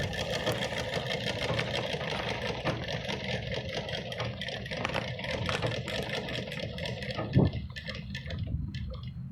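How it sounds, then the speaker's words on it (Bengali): Domestic sewing machine stitching fabric as the operator runs it, a steady close mechanical whirr with rapid ticking of the needle throughout, and one brief louder clunk near the end. "সেলাই করছি।"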